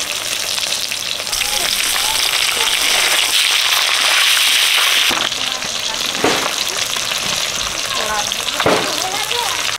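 Eggplant slices rubbed with salt and turmeric fry in hot oil, a loud, continuous close-up sizzle with bubbling crackle that swells and settles, while a person talks over it.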